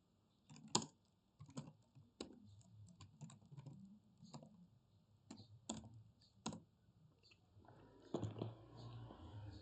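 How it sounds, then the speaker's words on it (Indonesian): Fingers tap out a command on a computer keyboard in a sparse, irregular run of close, dry clicks with pauses between keystrokes, no voices present. "untuk menjalankan CI4, kita bisa mengetikkan php spark serve"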